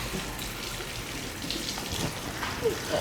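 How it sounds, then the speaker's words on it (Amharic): Tap water runs in a steady, soft stream while hands are washed, with faint voices in the background. "ውሃ በደንብ ታጠቢ ያልኩሽ።"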